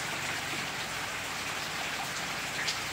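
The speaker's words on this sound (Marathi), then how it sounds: "पाऊस बघा आणि आल्यापासून पाऊस सुरू आहे" Steady rain falls continuously, a dense even hiss of drops with no breaks and no voices.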